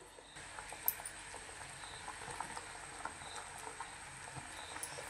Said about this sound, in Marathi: खळखळून ह्याला चांगली उकळी काढायची